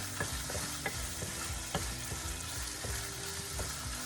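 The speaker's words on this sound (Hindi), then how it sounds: "तो आप इसको मीडियम हाई रखें, तो थोड़ा सा स्टर कर लें इस तरीके से।" Chicken sizzles steadily in a hot pan over medium-high heat while a utensil stirs it, scraping and tapping in irregular strokes over the continuous frying hiss, close and with no voices.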